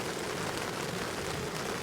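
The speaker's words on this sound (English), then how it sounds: "the rain is really loud" Heavy rain pounding a camping tarp, a dense, constant hiss of drops drumming close overhead with no breaks.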